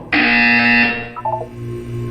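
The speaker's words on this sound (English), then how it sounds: "You will hear a buzzer." A loud, harsh electronic buzzer from the video game Portal 2 blares for about a second, then cuts off into a few fainter beeping tones.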